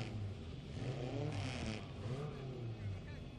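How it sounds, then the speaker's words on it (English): Four-cylinder ministock race car engines fire up and rev at Ohsweken Speedway, rising and falling engine tones heard faintly at a distance under an announcer's voice and crowd ambience. "The four-cylinder engines come to life."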